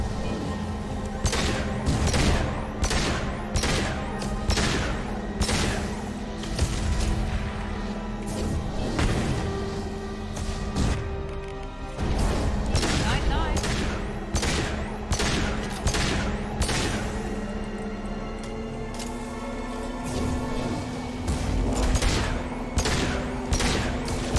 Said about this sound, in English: We just took down a gunship with a pistol